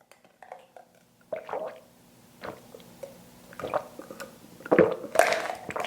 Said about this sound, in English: Really thirsty, getting that water in